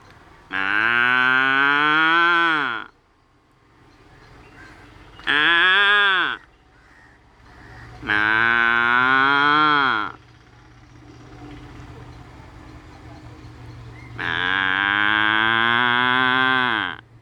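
A person imitates a cow mooing, four long drawn-out nasal moos, close and loud, separated by short pauses over a faint background hum.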